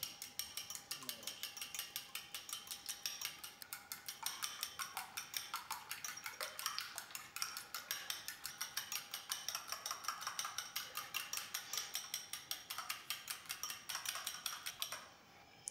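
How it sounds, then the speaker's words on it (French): Eggs seasoned with salt and pepper being beaten with a fork in a bowl, a fast, steady rhythmic clicking and tapping that runs unbroken for about fifteen seconds, close and fairly soft. "Je viens battre mes œufs à l'aide d'une fourchette."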